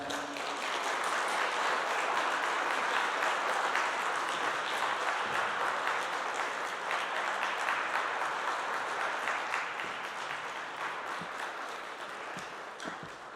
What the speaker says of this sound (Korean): 나오실 때 박수로 모시겠습니다.